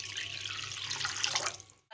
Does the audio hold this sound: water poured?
yes